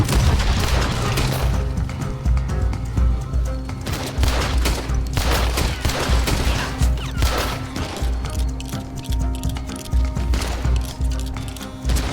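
Dense, continuous gunfire from a firefight in the video game Red Dead Redemption 2, rapid overlapping shots and booming reports running loud throughout with no pauses.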